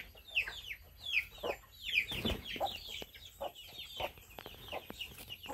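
Chickens and a rooster kept at a rural home cluck in a steady run of short, close calls, with one louder burst midway.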